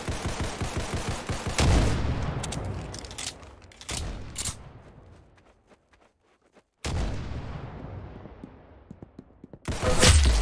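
Rapid bursts of automatic gunfire in the Roblox shooter Arsenal, loud and dense, dropping away into a brief lull before another sustained volley and a final heavy burst.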